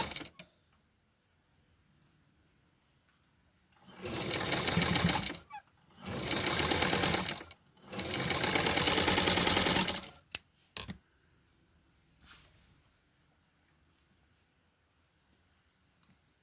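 Sewing machine stitching a hem on a small doll top from a Francie McCalls 8531 pattern, in three loud runs of a few seconds each with short pauses between, then near silence with faint handling clicks.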